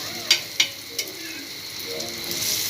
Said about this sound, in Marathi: दोन्ही साईडने आपल्याला अशा छान भाजून घ्यायच्या तेलात